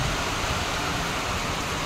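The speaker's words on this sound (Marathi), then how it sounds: "पाऊस सुरू आहे." Heavy rain falling outdoors, a dense, steady hiss of rain on surfaces that fills the whole moment evenly, with no voices.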